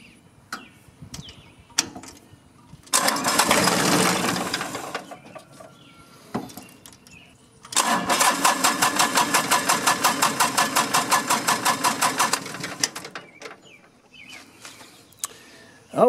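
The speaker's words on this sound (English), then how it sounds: "we'll go ahead and start it up and see if that takes care of it." A diesel engine, just after a fuel filter change with air still in the fuel line, cranks in a loud burst, then starts and runs for several seconds with a rapid, steady pulsing beat before cutting out, close up.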